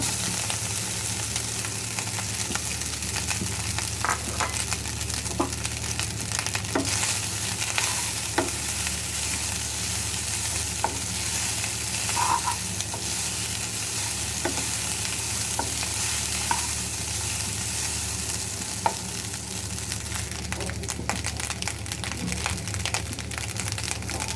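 Leftover cooked rice fries in a pan with a steady, even sizzle throughout, broken by occasional scrapes and taps of a stirring spoon, close and moderately loud with no talking.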